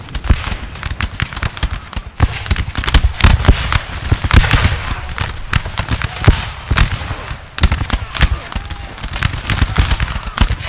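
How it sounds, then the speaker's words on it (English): Massed musket volleys crackle and pop continuously in a Napoleon Total War multiplayer battle, infantry units trading fire in dense overlapping bursts, loud and sustained with no pauses, no voices. "Look at that firefight"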